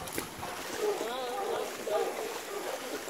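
Water sloshes and splashes steadily around a small leaking boat taking on a lot of water at night, with a faint voice partly audible beneath the watery churn.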